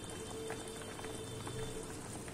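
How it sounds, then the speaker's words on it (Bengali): Fish curry broth bubbles steadily in a pan with potatoes, green chili and salt, a soft continuous boil and pop under faint background hum. "জল ফুটে এসেছে, ঝোলটা ফুটছে"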